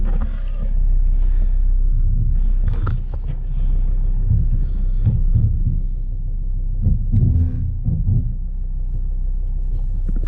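The D5 diesel engine of a Volvo V60 idles with a steady low rumble as it backs up in reverse, close and continuous, with a few bumps and shifts over the drone and no talking.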